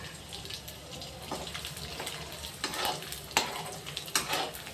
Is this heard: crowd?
no